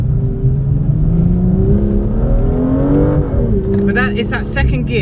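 A BMW M2 accelerates hard in second gear while drifting, its engine note climbing in a loud, rising drone before tyres and revs shift near the end, with someone talking over it.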